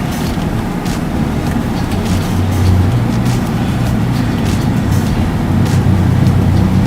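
A used Kia car pulls away on a test drive, heard from inside as a steady low engine and road rumble with constant broadband noise and no speech.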